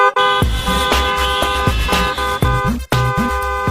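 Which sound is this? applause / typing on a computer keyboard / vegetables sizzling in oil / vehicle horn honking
vehicle horn honking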